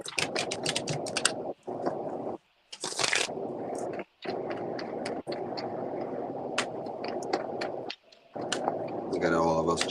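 Several people shuffling cards during a live divination reading, a dense, continuous riffling and clicking that runs nearly throughout with a few brief gaps, and a voice speaking near the end.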